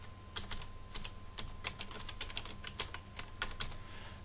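Quick bursts of key clicks rattle off a computer keyboard as text is typed, light and close, with a faint hum beneath and no talking.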